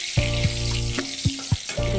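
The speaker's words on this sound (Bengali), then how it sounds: "দুটো কাঁচা লঙ্কা ফোড়ন দিলাম" Two green chillies spit and crackle in hot oil in a kadai with cumin, a close sizzle marked by several sharp pops and spatters at irregular intervals, no talking.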